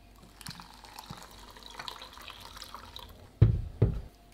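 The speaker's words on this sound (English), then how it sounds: "And then I just add water." Water is poured into a bowl of plain porridge oats, giving two short, loud splashing bursts near the end after a quiet stretch of low background noise.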